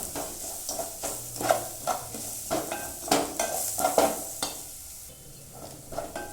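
A salted coconut milk mixture with coriander powder is stirred in a pot, giving a brisk series of close scraping strokes over a soft sizzle, steady and moderately loud.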